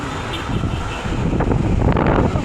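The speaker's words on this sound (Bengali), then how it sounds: "বাতাস আসছে কেন" Steady wind rushing and buffeting against the microphone, a continuous low roar with gusty surges throughout.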